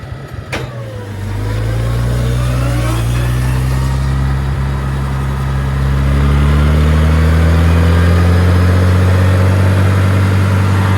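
A large diesel engine of a 706 farm tractor cranks, catches and settles into a steady, loud running drone, its pitch rising slightly as it revs up.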